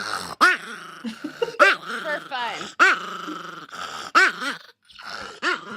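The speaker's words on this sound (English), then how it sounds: "This is a dog I keep on my lap for fun." Small dog held on a person's lap growling and grumbling in repeated short bursts, close and fairly loud, mixed with whimpering yips while people talk over it.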